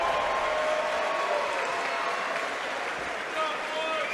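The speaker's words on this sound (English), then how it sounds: "let's give both fighters a big round of applause" A fight-night audience at an SSP 65 cage event applauds both fighters after three rounds, a steady wash of clapping that holds at even loudness throughout, with crowd noise mixed in.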